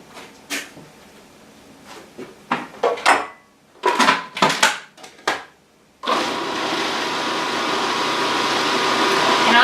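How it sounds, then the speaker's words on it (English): A food processor whirs loudly and steadily, blending a fish stick mixture of fish with egg; it starts after several sharp clatters and knocks of the lid and bowl being set in place. "And we're just going to process all this together."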